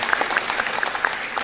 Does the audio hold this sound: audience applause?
yes